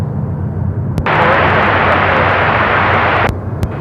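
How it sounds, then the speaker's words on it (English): A SkyWest airliner takes off from runway 34 right at Seattle-Tacoma International Airport, its broadband jet roar swelling up loud and steady for a couple of seconds before cutting off abruptly, with no one talking. "Skywest 3337, runway 34 right, cleared for takeoff"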